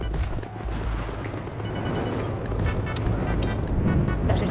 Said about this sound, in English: That's just a ton of explosions.